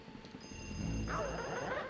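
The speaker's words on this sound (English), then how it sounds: "you hear the phone ringing" A ringing telephone in the telephone room of the video game Luigi's Mansion, a steady electronic trill sustained for over a second amid low, murky background sound.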